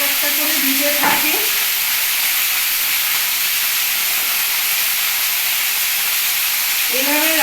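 Grated ginger and spices fry in a hot pan with a steady, close sizzle throughout, with a couple of brief clinks and stirring sounds from a utensil near the start and end.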